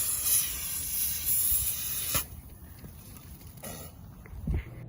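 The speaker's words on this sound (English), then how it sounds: "when I open it, the pressure will decrease, making the soda fizz out" A shaken soda bottle is opened and the soda fizzes out with a quiet, steady hiss close by for about two seconds, then cuts off, leaving faint room noise and a few small knocks.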